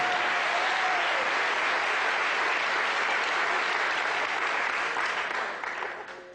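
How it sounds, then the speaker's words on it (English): An audience at a live talk on smoking taboos bursts into sustained applause, a dense, steady wash of clapping from many hands that holds evenly and thins slightly toward the end. "Non-smokers, by round of applause. Let's hear non-smokers."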